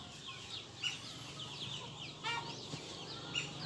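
Young free-range chickens of about 700-800 grams cluck softly in their coop, with scattered faint squawks over a steady farmyard murmur.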